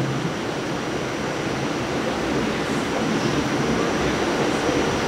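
Riding aboard a Staten Island Railway express train bound for Tottenville, a continuous loud rushing rumble of the car rolling on the tracks, steady throughout with no talking.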